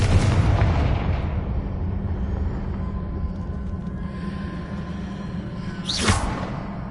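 A Confringo fire spell bursts in the Hogwarts Legacy video game with a rough, booming blast over steady background rumble, then a sharp whooshing flare near the end.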